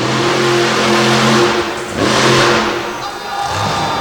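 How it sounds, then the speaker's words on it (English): Monster truck War Wizard revving hard at a motorsports show in Madison, Wisconsin as it readies to launch, a loud, sustained engine roar with two surging pushes and a brief dip between them. "RJ getting the truck in position to launch it"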